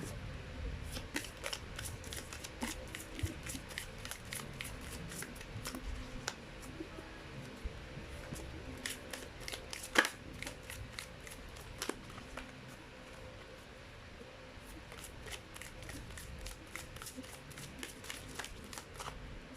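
Repeated riffling and flapping of an oversized deck of cards being shuffled up close, in uneven bursts with soft handling noises between.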